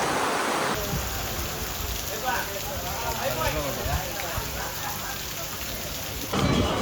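Heavy rain pours steadily during a family trip to Srisailam, a dense, constant hiss of downpour close by with voices faintly underneath.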